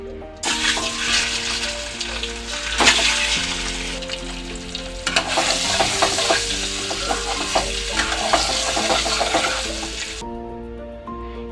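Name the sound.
frying boiled eggs in a pan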